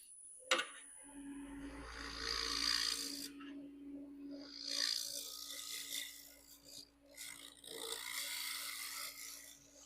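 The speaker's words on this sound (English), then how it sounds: "Now, where's that scraper? I'll just try and see if I can clean that bottom up just a little bit." A hand scraper cleans up the bottom of a natural-edge wooden bowl on a lathe, making soft, intermittent rasping strokes over a steady low machine hum, quiet and close.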